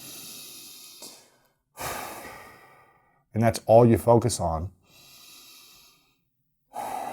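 Slow, deep breathing during a calming meditation: long, airy inhales and exhales come one after another, close and soft, with someone speaking briefly between breaths.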